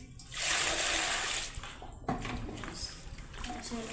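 Colocasia leaves are soaked and washed in a basin of water, giving a loud sustained splash and slosh that fades, then a second burst of splashing and dribbling water close by.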